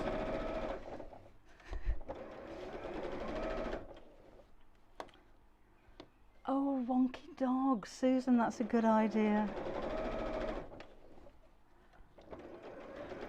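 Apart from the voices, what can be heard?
sewing machine stitching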